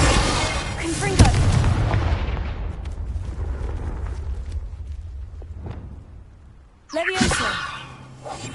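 Incendio and Confringo spell blasts from the Hogwarts Legacy video game burst out twice, a sharp crackling hit early on and another fiery blast near the end, over a dense rumbling game soundscape.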